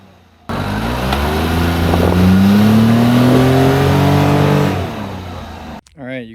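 A Daihatsu Hijet S110P mini truck engine revs hard as the driver heel-toes and brake boosts, diff unlocked. The sweeping pitch climbs and holds loud and close for about four seconds, then drops away to a brief idle.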